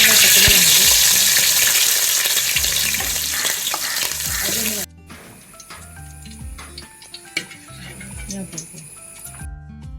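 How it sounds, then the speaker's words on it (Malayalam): Sliced garlic sizzles loudly in hot oil for a homemade beef pickle, a dense crackling fry that drops sharply about halfway through to a quieter simmer with scattered pops and stirring clinks. "ഒരു 200 വെളുത്തുള്ളി നീളത്തിലരിഞ്ഞത് അതും ഇതുപോലെ നമുക്ക് മൂപ്പിച്ചെടുക്കണം."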